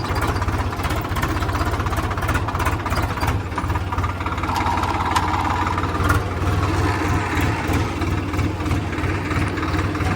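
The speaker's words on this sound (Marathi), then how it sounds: "त्या ट्रॅक्टरला खूपच जास्त स्पीड आहे फर्स्ट गिअरला" A Swaraj 744 XT tractor runs steadily in first gear on a tough field, its loud diesel engine chugging with a constant knocking throb and no breaks.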